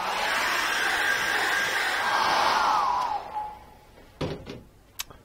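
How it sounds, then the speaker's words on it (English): A hair dryer drying acrylic paint in an art studio blows steadily for about three seconds, then winds down, followed by a few scattered knocks and clatters. "Let's just get a hairdryer on that."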